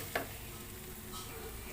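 Beef and broccoli sauté in a single pan, a quiet steady sizzle with one sharp utensil tap near the start.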